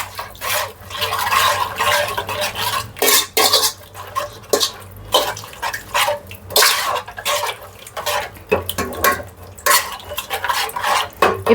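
A spoon stirs a hot-water and lemon mixture in a bowl during biryani preparation, with steady rhythmic scraping and clinking against the dish, close and continuous.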